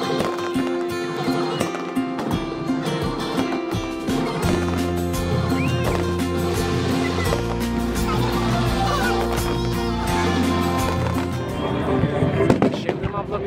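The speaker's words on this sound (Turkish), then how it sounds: "Geldim diye havai fişek patlattım." Fireworks set off during a street celebration in İzmir, Turkey, sounding as a long, dense run of bangs and crackles layered over loud music and crowd noise, with horse-like whinnies and hoofbeats mixed in.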